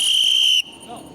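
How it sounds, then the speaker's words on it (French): A whistle blown in a railway station gives a loud, steady high-pitched blast for about half a second, then cuts off sharply, leaving quiet background noise. "Bah, j'ai sifflé."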